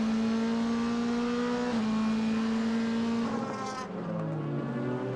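DTM touring race cars lap the tight Adria circuit in the 2004 race, with a strong engine whine holding high revs, then a shift and a fading, dropping pitch as a car passes and pulls away.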